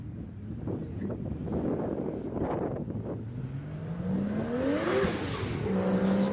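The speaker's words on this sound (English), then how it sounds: "Go, Toyota Supra." A Toyota Supra accelerates at a TX2K21 drag racing event, its engine note rising steadily in pitch as it pulls away, heard from a distance under heavy wind noise and crowd ambience.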